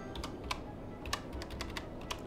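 Quiet computer keyboard typing while playing Cities: Skylines, a series of individual key clicks at irregular intervals with a few sharper strikes, close but soft over low background noise.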